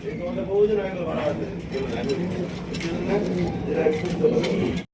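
A blue satin pigeon cooing in a pigeon loft, steady low throaty coos repeating close by over a continuous background murmur, with a voice talking over it.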